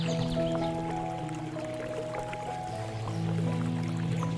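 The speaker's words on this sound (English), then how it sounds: "And the water can flow directly down to my 2nd floor balcony garden." Water runs from an old garden hose repurposed as a drip irrigation line feeding a second-floor balcony garden, making a soft steady trickle with light dripping and gurgling, fairly quiet and close.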